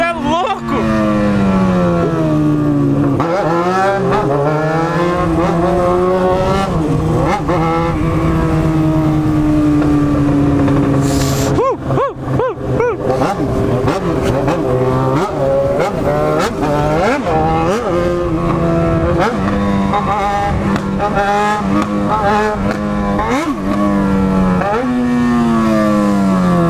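A Yamaha XJ6 motorcycle engine revs hard and close, its pitch climbing and falling through repeated throttle pulls and gear changes on a cold road ride, loud and continuous throughout.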